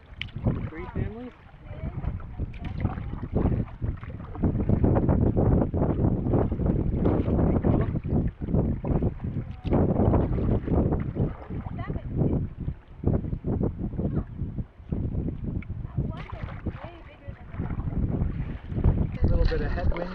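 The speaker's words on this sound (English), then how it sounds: "A little bit of headwind on Hunter's Bay." Headwind blowing across Hunter's Bay while a canoe is paddled through it, making a loud, continuous roar of wind buffeting the microphone that rises and falls in gusts throughout.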